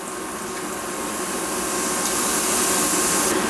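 Homemade potato chips fry in hot oil, giving a loud, steady, dense sizzle that builds slightly and carries on without a break. No one speaks.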